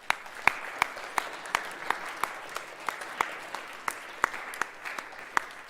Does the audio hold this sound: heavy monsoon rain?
no